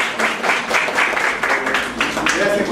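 An audience claps to welcome a speaker at a medical talk on type 2 diabetes, with a steady patter of applause and a voice speaking over it.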